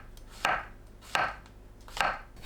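A knife slices button mushrooms on a cutting board, three crisp, evenly spaced chops heard up close in a quiet kitchen.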